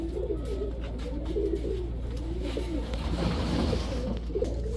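A pair of Giribaz high-flyer pigeons, one male and one female, coo in repeated soft, rolling phrases close by over a steady low background hum.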